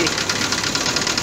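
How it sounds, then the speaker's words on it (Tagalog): The V8 gasoline engine of a 1994 GMC Topkick truck runs in a steady, close, rough idle with a faint knocking texture, sounding briefly and loudly on its own. "So, yung makina niya, oh. V8 na GMC"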